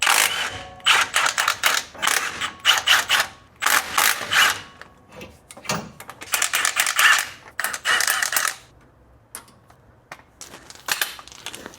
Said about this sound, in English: Next, let's get those 15 mils off the axle side flange.